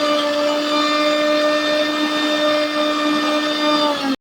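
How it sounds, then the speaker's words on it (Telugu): A mixer grinder whirs at high speed grinding a spice paste for crab curry, with a steady motor whine, running continuously before cutting off abruptly at the end. "మిక్సీ పట్టుకుంటున్నామండి"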